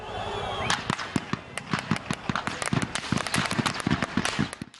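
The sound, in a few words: gunfire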